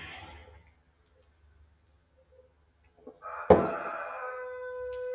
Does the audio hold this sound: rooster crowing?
yes